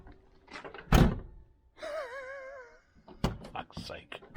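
A 1971 Range Rover passenger door shutting with a single solid thunk, close by, surrounded by someone talking and a whistling or humming tone in between.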